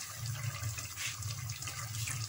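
Mutton stock (yakhni) pours steadily into a cooking pot for a mutton koila karahi, a soft continuous liquid gush over a low hum with no talking.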